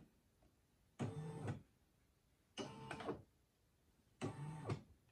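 A Brother SE1900 embroidery machine stitches a monogram onto a coat in three short bursts of whirring mechanical buzzing, separated by quiet gaps, close and clear with no voices.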